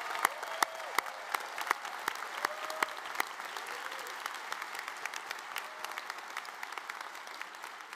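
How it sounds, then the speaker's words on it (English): A crowd at a medical school commencement ceremony applauds the graduates continuously, a soft, distant wash of clapping with scattered crisp claps cutting through. "join me in a round of applause for the graduates of the Jacobs School of Medicine and Biomedical Sciences"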